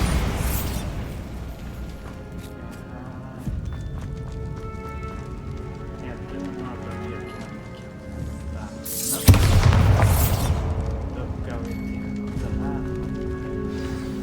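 A Bombarda blast spell from Hogwarts Legacy strikes a barricade, giving one loud booming burst partway through that stands out over steady game music and ambience.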